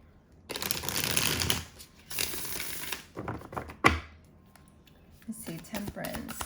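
Tarot cards being shuffled in a few rustling, riffling bursts that come and go, with a sharp tap near the middle and quieter handling at the end.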